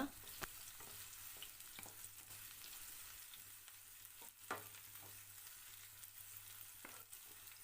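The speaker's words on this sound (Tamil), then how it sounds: "ரெண்டு கட் பண்ண ஆனியன் சேர்த்து ஒரு 5 நிமிஷத்துக்கு வதக்கி விடுங்க." Onions sautéing in ghee in a pan for meal maker pulao give a steady, close sizzle, with occasional scraping stirs and light clicks throughout and no voices.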